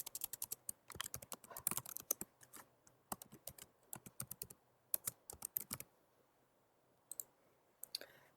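Computer keyboard typing in quick bursts of crisp clicks, close and clear, with short pauses between runs of keystrokes and no talking.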